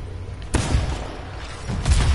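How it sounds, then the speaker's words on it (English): A heavy cannon in a video game, fired by a character-inspired Optimus javelin, lets off two deep booming blasts about a second apart over a low rumbling background. "Boom! A big cannon."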